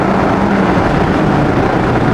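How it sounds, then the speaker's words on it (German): A Mazda MX-5 engine revs hard under full acceleration toward the rev limiter, a loud, steady broadband roar that holds close and continuous throughout with no talk over it. "der Motor hängt wirklich gut am Gas, fast bis in den Drehzahlbegrenzer rein"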